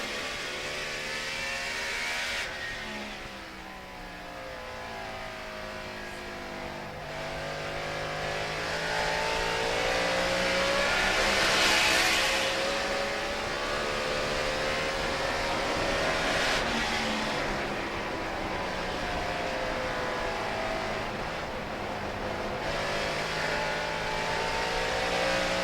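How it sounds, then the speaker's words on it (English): A 2007 NASCAR Cup Series Chevrolet stock car, the number 8 Budweiser entry, races on track with a continuous loud engine roar whose pitch rises and falls as it shifts and accelerates through laps, and no voices. "Dale Earnhardt Jr. has made it up to 8th in the number 8 Budweiser Chevrolet"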